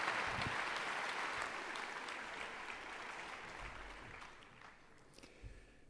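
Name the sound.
audience applauding the speaker at a conference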